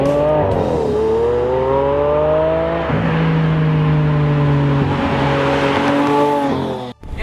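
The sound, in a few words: Lamborghini Aventador Roadster accelerating hard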